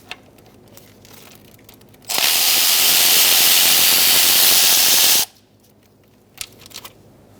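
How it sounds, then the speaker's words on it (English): A continuous loud mechanical whir lasts about three seconds, close by and alone, with quieter ticks and clinks before and after, while a 10mm socket removes valve cover bolts on a 2002-2006 Toyota Camry engine. "we can start taking out the bolts around the perimeter"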